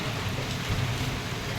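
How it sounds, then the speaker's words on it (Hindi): Heavy rain pouring down outdoors during a prolonged downpour, a steady dense hiss of drops on surfaces, constant and moderately distant with no voices. "बारिश फिर तेज हो गई है, फिर तेज हो गई है"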